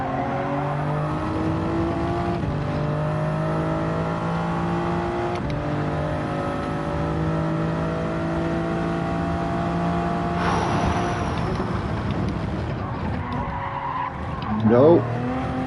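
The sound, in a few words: race car engine and braking in Gran Turismo 7 video game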